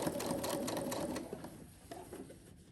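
Sewing machine stitching fabric for a small drawstring bag, a fast close mechanical whirring hum that runs steadily and then slows and stutters toward the end, with no talking.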